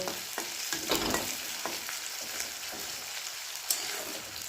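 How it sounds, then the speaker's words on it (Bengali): Chopped onion frying in hot refined oil gives a steady close sizzle, with a few sharper scraping stirs near the start and another near the end. "দিয়ে দিচ্ছি এখন পেঁয়াজ কুচি তেলটা গরম হয়ে গেছে হালকা করে ভালো করে ভেজে নেব"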